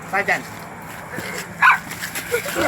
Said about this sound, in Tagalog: Aso ba talaga yan pre? Oo, aso yan.